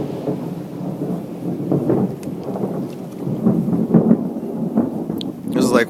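A loud thunderstorm in Italy rolls with deep, booming thunder over steady rain, the low rumble swelling and fading in waves for several seconds.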